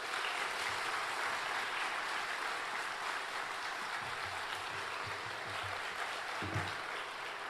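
A church congregation at Yeongju Church's autumn Bible gathering applauds to welcome the pastor, Kim Nam-jun, a steady, even wash of clapping from many hands that fills the room for several seconds.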